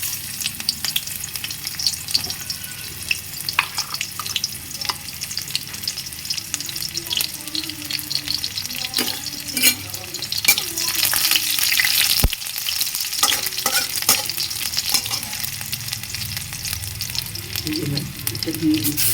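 Chopped onion frying in a pan for a Bengali bharta, with a steady close sizzle and repeated scraping and clinking from stirring, plus one sharp click midway.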